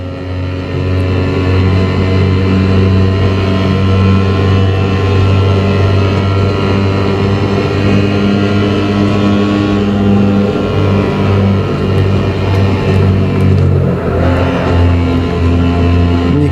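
Fiat Abarth 595 engine in the Assetto Corsa racing game, a loud, steady engine drone with harmonic tones that hold and shift slightly through a long run, without talk.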